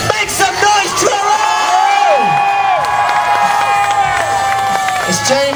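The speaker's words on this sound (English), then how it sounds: "Okay, if you think it was Mickey, can I have another huge cheer, please?" A large outdoor crowd at an FMX motocross show cheers and whoops loudly and continuously, with yells and a ringing whistle-like tone rising over the roar.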